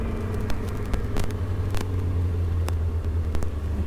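A motorcycle accelerates in second gear without using the clutch, its engine giving a steady, loud, close rumble that holds throughout with no pauses.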